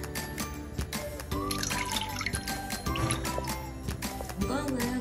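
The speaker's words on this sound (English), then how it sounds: "I'm going to pour my oil" Cooking oil poured into a pot while preparing dried snail, a steady liquid trickle with dripping under background clatter and some voice.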